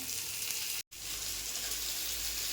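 Pieces of shark fish fry in hot oil in a pan, producing a loud, steady sizzle that fills the clip, broken once by a brief total dropout before the crackling resumes.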